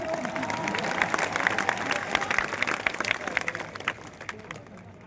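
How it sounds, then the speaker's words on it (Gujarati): A crowd at a Thakor community constitution convention in Banaskantha, Gujarat, applauds in a dense, steady wash of clapping that thins and fades toward the end. "તાળીઓ તો પાડો."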